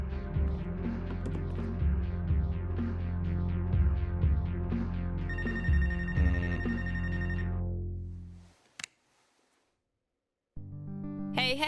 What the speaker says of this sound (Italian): Aspetta che rispondo al telefono.